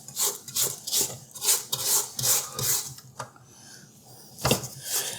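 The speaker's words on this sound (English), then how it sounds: "we'll go ahead and give it a quick scrape down" A spatula scrapes around a big stand mixer bowl of soft maple brown sugar cookie dough, giving repeated rasping strokes in a steady rhythm, close and clear.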